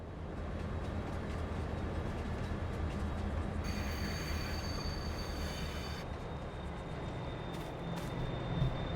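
A train in Farming Simulator 22 rolls along with a steady low rumble of wagons on rails, and a high metallic wheel squeal rises midway for a couple of seconds before fading back into the continuous clatter, with no talking.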